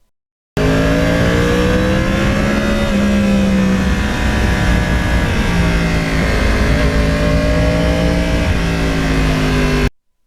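Yamaha R1 crossplane motorcycle from 2009 accelerating on back roads, a loud, close engine note rising in pitch through several gear changes with a steady, throaty drone.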